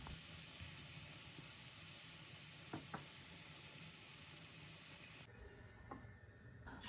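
Thin crepe batter fries in a well-heated pan greased with oil, giving a steady soft sizzle with a couple of light scraping taps. Near the end the hiss briefly turns sharper and brighter.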